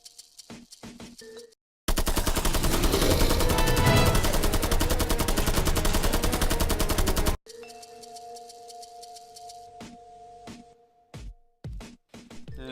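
Rapid automatic gunfire from M4 and Vector weapons in a video game, a loud sustained burst lasting several seconds, with short isolated shots before and after.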